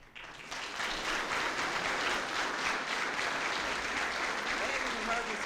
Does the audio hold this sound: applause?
yes